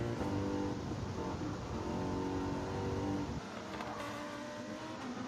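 Mercedes race car in Gran Turismo 7 holding a steady, loud engine drone throughout, dropping slightly in pitch near the end as it eases off, with no talk.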